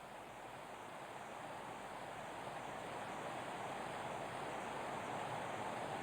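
Fast river water churns through a whirlpool in a pike-fishing spot, giving a dense, unbroken rushing roar that holds steady throughout with no voices.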